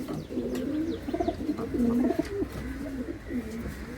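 Saji's racing pigeons coo repeatedly in soft, low rolling phrases, close by, over a steady outdoor background with no talk.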